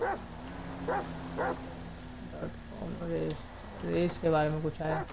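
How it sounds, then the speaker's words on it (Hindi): A dog barks and yips inside a car in the video game GTA V, several short sharp barks spread through the clip, loudest toward the end, with someone talking over them. "कुत्ता तो कार में भी भौंक रहा है"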